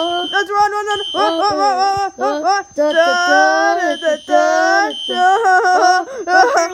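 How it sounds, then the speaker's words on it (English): A shrill, steady alarm tone rings beneath excited, shouting voices that talk over it throughout. "I'm gonna pull the fire alarm."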